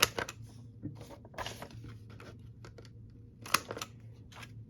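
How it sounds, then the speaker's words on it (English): Paper corners being cut with a We Are Memory Keepers corner punch: sharp snips and rustles of handled paper come in short bursts between quiet gaps, close by. "So I'm going to go ahead and cut the corners on this."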